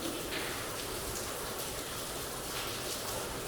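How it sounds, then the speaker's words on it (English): Heavy rain pours steadily into a roofless room of an old Ohio prison, a dense, even hiss of drops on hard surfaces, close and continuous throughout with no voices. "it's pouring down rain outside and they don't have a roof in here"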